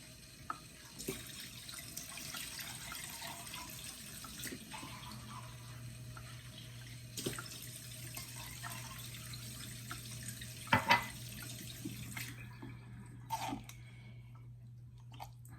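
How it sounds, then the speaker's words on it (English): Running water from a tap pours steadily into a container for several seconds while making fresh cranberry juice, with a few small clinks and knocks toward the end. "I'm going to add 2 cups of water to my container"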